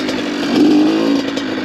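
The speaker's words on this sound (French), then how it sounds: "Le mélange doit être trop gras parce que la moto elle a un peu de mal à se lancer" An 82cc CR two-stroke supermoto motorcycle running rich on a wet road: a loud, close, buzzing engine drone that swells briefly as revs rise, then settles back to a steady note, with no voices.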